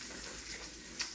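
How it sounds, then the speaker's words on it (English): Bacon frying in a pan gives a soft continuous sizzle, faint and steady, with one brief sharper crackle near the end. "if you're wondering why I have bacon cooking in the background"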